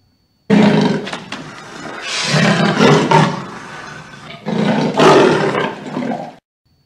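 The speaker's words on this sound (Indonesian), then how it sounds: "Ini adalah macan tutul." A toy leopard lets out a loud, close recorded roar in several rough, swelling bursts with a growling texture. The sound starts suddenly and then stops cleanly.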